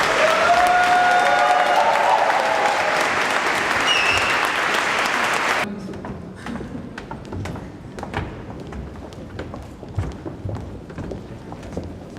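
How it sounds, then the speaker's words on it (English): Audience applause at an award gala, loud and dense clapping for about six seconds before cutting off abruptly, followed by scattered thumps, taps and footsteps in a quieter room. "It's time for applause for the"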